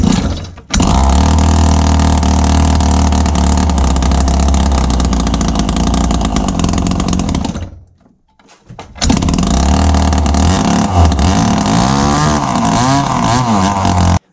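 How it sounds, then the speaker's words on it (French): A 49cc pocket bike engine runs close by, loud and buzzing, with rising revs, a short drop to near silence midway, then it picks up again and revs with wavering pitch. "Le moteur, je l'ai démarré une fois, donc j'ai fait un petit enregistrement pour vous montrer ça."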